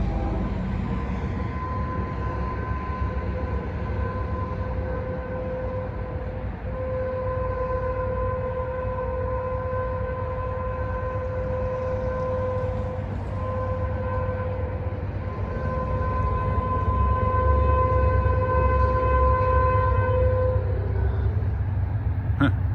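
A CSX or Norfolk Southern train horn at a grade crossing, sounding as a long sustained chord that holds for many seconds over a low rumble of the passing train, loud and near.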